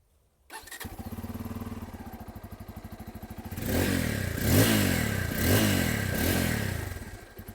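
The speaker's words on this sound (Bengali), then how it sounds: "এটা হচ্ছে N250 এক্সজস্টের সাউন্ড।" A Bajaj Pulsar N250 motorcycle exhaust fires up and settles into a steady, throbbing idle, then gets blipped through several sharp, loud revs in quick succession, heard up close with no talking.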